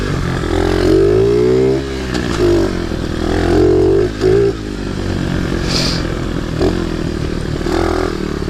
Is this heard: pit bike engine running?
yes